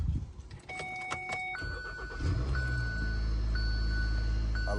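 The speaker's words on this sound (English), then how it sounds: "now you're ready to turn on your car and boost it up" A car boosted by a VTOMAN X7 4250A jump starter cranks briefly with dashboard chimes, then its engine catches and settles into a steady close idle.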